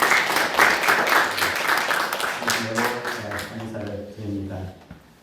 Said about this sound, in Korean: 목사님께 다시 한번 박수로